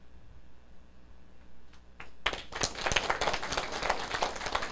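An audience at a political lecture breaks into applause after a short pause, dense and sustained clapping building from a few claps to a full crowd.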